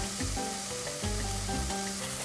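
Onions and thyme frying in butter in a pan, a steady bright sizzle with no talk, against a background of tonal music.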